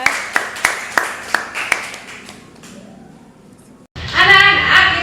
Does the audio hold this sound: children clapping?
yes